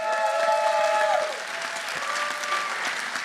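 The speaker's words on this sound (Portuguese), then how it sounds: "uma grande salva de palmas para a Carla e para o Mário" Audience applause fills a hall at a live event, dense steady clapping that runs throughout with a faint whistle near the start.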